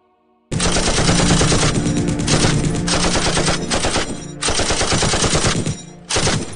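Sustained automatic AK rifle fire in a video game, loud and dense, rattling in long bursts with brief gaps and no talk.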